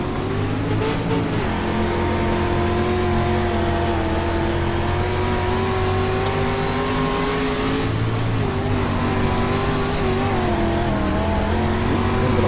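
Stock car engine in a street stock race at Charlotte, recorded onboard, roars loud and steady, its pitch climbing and dipping with throttle and gear changes the whole time.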